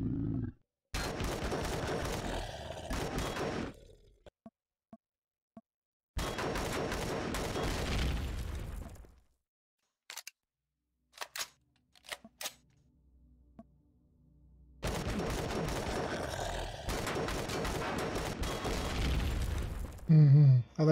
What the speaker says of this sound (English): I like the burst fire.